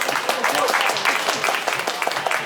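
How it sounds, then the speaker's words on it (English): A crowd at a Casks and Flasks event gives a round of applause, dense, lively clapping from many hands, close and fairly loud throughout. "A round of applause for Master Chris, please."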